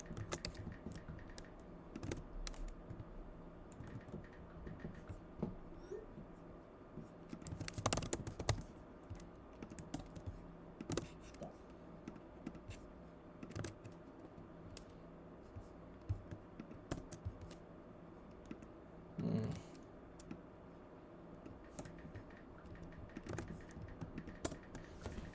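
A computer keyboard clatters in irregular bursts of keystrokes as a command is entered, fairly faint and steady over about twenty-five seconds, with a few louder clacks and low background noise.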